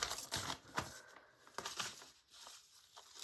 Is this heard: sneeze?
no